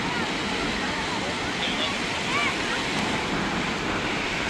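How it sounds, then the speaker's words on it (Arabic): High sea waves surge at a beach resort in Porto Marina, Marsa Matrouh, a dense continuous roar of surf with gusty wind hiss and faint whistly tones, no clear talking. "الموج عالي النهارده"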